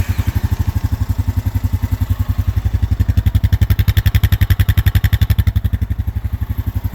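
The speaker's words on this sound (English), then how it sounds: "So let's go ahead and start it up." A new 2023 Honda Rubicon 520 DCT Deluxe ATV engine fires up and idles close by, loud and steady with an even pulsing throb that runs throughout.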